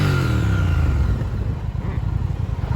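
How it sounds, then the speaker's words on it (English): The engine of a 2020 Triumph Speed Twin 1200 motorcycle gets a small blip of throttle, giving a loud, close rise in pitch that settles back to a deep, lumpy burble. "this is what she sounds like with just a little bit of gas"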